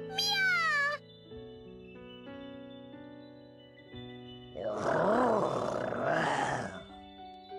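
A single short, high meow from a cat in the video game Bravely Second sounds over background music, followed by growling, roaring creature noises.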